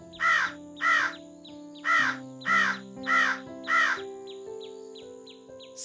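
A raven calls in a steady series of six loud, hoarse caws at a regular pace, followed by softer, shorter croaks trailing off, heard close and clear with no talking.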